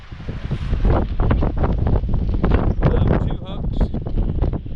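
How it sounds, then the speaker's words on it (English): Strong wind buffets the microphone on a wet, wild beach during sea fishing, a loud continuous roar with gusts, while someone talks over it throughout. "The wind is really getting bad though."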